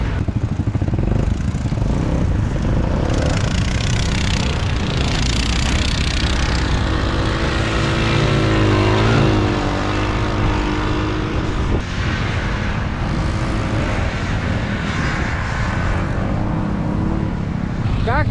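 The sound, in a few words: snowmobile engine revving under throttle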